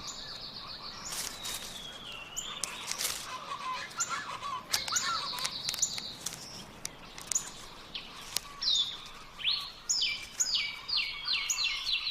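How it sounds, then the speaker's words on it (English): Moctezuma's oropendola calling through the rainforest canopy in Guatemala, loud liquid gurgling and whistled notes repeating in bursts, with other birds and insects chirping around and no voices. "The characteristic call and eye-catching display of Moctezuma's Oropendula rings through the canopy."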